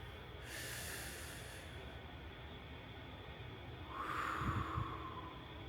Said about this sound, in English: we're going to breathe in 3 times and breathe out